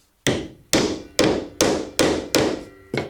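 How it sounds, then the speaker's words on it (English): A mallet pounds T-nuts into wood with seven sharp, evenly spaced strikes about half a second apart, each a close, loud knock that rings briefly before fading, with no voices. "a much faster way is to just pound them in with a mallet"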